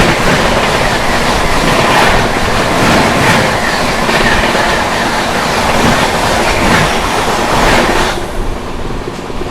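A 12310 New Delhi–Rajendra Nagar Terminal Patna Tejas Rajdhani Express approaches and passes close by, a loud continuous rumble with rhythmic clickety-clack of wheels over rail joints, easing off near the end.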